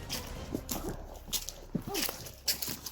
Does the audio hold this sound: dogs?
yes